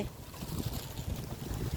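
Steady wind sweeps across open fields of sunn hemp and rice paddies, a continuous broad rushing roar that buffets the microphone with no voices.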